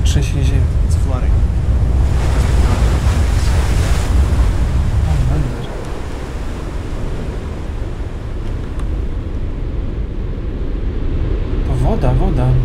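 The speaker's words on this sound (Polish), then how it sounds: "It's flooding." Flood water rushes in during an earthquake in the I Am Alive video game, a loud continuous roar of surging water and wind-like noise, with a slight drop midway, while voices speak over it.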